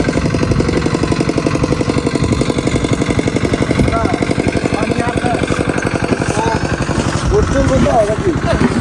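A loud boat engine chugs steadily throughout with a rapid, even pulse, while people talk and call out over it nearby at a canal landing.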